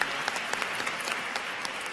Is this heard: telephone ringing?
no